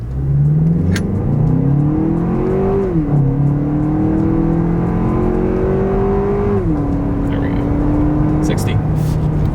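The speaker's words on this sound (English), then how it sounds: "let's see how quickly we can get our new TX 350 here up to speed" A Lexus TX 350 SUV with a turbocharged four-cylinder accelerates hard from a standstill, its engine note climbing steadily with two distinct gear-shift drops along the way, loud and close from inside the cabin.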